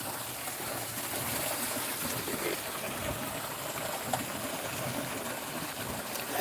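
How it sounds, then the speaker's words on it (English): A small creek trickles and burbles steadily outdoors, a continuous close, even wash of running water with no voices. "Like this little creek right here."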